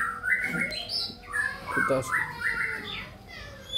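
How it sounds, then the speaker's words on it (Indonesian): A long-tailed male white-rumped shama (murai batu), tame and just out of moult, sings in bright repeated whistled phrases close by, with human voices talking over and between its song. "mengenai murai batu balak ini temannya"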